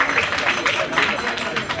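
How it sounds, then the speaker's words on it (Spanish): An audience claps at a cultural gathering, a short burst of dense, lively applause with voices mixed in. "que les brinden un aplauso"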